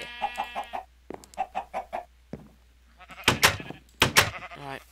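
Chickens on a farm in a modded survival video game give repeated clucks and short squawks in bursts, some overlapping, close and clear, with other farm animal calls mixed in.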